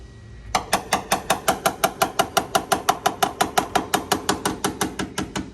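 Rapid, steady metallic tapping on the rusty passenger-side rocker panel of a square-body truck, about four hits per second, close up and fairly sharp, with no talking.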